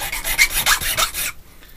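Hand file rasping across a hand-made metal key blank to widen the cuts, a quick run of close, rhythmic strokes that stops abruptly, leaving near silence.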